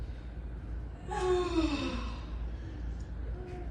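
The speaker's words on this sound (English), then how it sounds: "So they were yawning and they were stretching." Children yawning as they pretend to be sleepy at a vacation Bible school gathering, a loud drawn-out yawn rising then sliding down in pitch, trailing into quieter breathy sighs.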